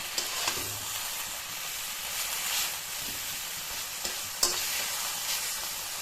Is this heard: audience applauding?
no